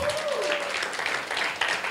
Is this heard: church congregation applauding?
yes